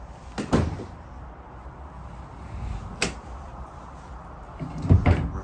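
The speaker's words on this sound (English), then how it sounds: "Doors open up just like that." Rear doors of a 2019 Ford Transit Custom van with a ladder and racking being opened, giving a few sharp metallic clunks and latch knocks spread out, close and without talk.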